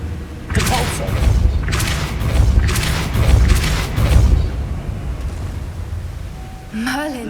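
A spell cast in the video game Hogwarts Legacy, heard as a run of deep booming thumps in quick succession followed by a rising magical whoosh, loud and close over game ambience.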